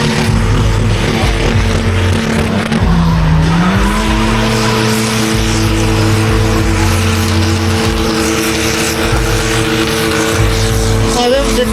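Drift cars at a festival in Alytus roar loudly and continuously, the engine note dipping and then climbing as tires squeal and skid. Faint voices can be heard underneath.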